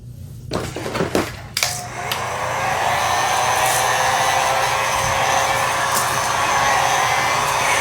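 A heat gun warms part of a Honda HRR2169VYA push mower. A few clattering knocks of handling come first, then a steady, loud blowing whoosh that holds without a break.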